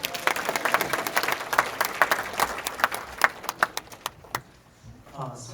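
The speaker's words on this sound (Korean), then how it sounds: "목사님 박수로 모십시오." Audience at a church assembly applauding to welcome a pastor to the podium, moderate clapping with distinct individual claps that thins out toward the end, leaving a faint voice.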